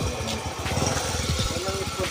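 A Kawasaki CT100 motorcycle engine idles smoothly after input shaft repair work, a steady close mechanical putter running throughout while someone talks over it.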